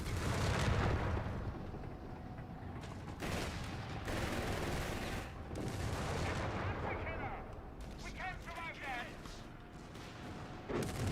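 Gunfire and artillery-like blasts from a Company of Heroes 3 battle, including an anti-tank gun, rumble repeatedly in a busy wartime soundscape beneath steady commentary voices.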